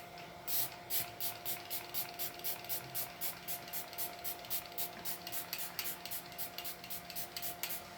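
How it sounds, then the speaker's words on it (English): Rapid repeated bursts of aerosol spray, short hissing puffs in a steady rhythm, close and moderately quiet over a low hum. "30 centimeters away and spray"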